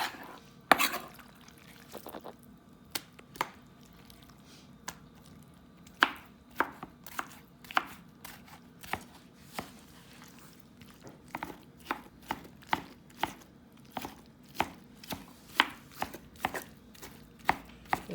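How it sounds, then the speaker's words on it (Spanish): A knife chops cleaned, seeded chili pepper into small cubes on a board, with quick irregular taps that come in bursts and speed into a steady rapid rhythm, close and crisp over low kitchen background noise. "una picadita al chile"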